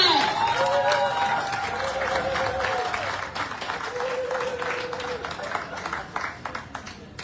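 A crowd applauds at an anniversary celebration for a foundation, with dense clapping that gradually thins out. Cheering and a few voices mix in, along with a sustained tonal sound early on.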